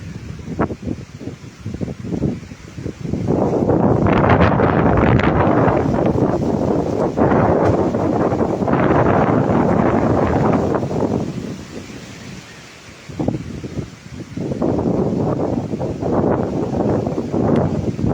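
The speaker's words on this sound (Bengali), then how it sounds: "দেখতেই পাচ্ছেন এখনকার আবহাওয়া কিভাবে এখানে কত গতিতে এখানে বাতাস বইছে" Strong wind blowing through a hilly village near Bhuban hill, roaring in long loud gusts against the microphone that ease off and then return.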